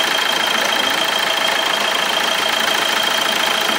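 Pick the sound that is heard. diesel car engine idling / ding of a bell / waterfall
diesel car engine idling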